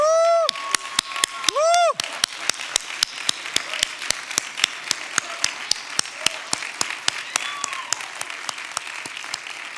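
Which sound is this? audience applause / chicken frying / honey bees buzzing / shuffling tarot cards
audience applause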